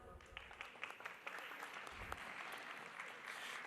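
A conference audience clapping for the ambassador, a dense burst of many hands that starts with sharp individual claps and settles into steady, moderately distant applause, with some voices faintly mixed in.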